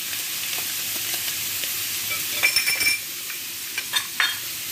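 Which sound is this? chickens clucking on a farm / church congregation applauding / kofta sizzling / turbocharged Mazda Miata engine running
kofta sizzling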